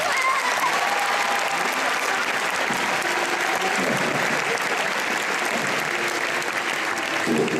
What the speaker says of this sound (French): Mesdames et messieurs, applaudissez William Shakespeare.